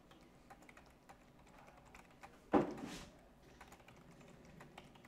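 Soft, quiet keystrokes tapping on a computer keyboard in a steady scattered rhythm, broken by one louder thunk partway through.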